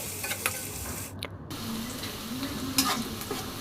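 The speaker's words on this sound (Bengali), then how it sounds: "এবার পেঁয়াজ কুচি কিছুক্ষণ ভেজে নিব" Chopped onion sizzles and fries in a pan for a Bengali kochur mukhi dal, with steady crackling and a few scraping stirs of a spoon, close and moderately loud, with no voices.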